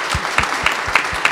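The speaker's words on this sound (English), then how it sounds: "Please give a round of applause to our panelists" Audience clapping for a panel at a discussion event, steady moderate applause throughout with no voices on top.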